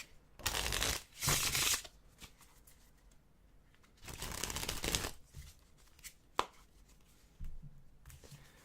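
A deck of playing cards riffles in two loud, close shuffling bursts separated by quieter handling, plus a sharp snap of cards and soft rustles near the end.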